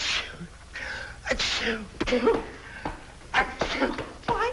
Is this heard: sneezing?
yes